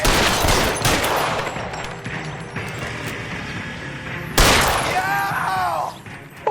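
Gunfire from a shootout in the video game L.A. Noire Remastered, with rapid volleys and a sharp loud burst partway through, layered over score and crowd effects, with voices shouting briefly.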